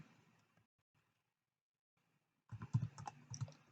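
A web address is typed on a computer keyboard, a quick close run of key clicks at the end after near silence.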